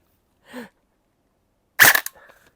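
Double Bell M4A1 airsoft rifle with ABS body fired during a power test: a faint soft pop, then after a pause a loud sharp crack with a brief rattling tail, heard up close with no speech.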